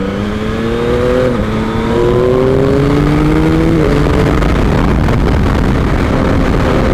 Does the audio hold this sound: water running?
no